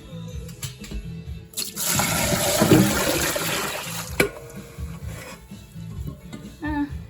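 Dirty cleaning water being poured out and refilled in a bucket during a budget kitchen cleanup, a loud gushing, splashing rush of a few seconds with lighter sloshing and clinks before and after.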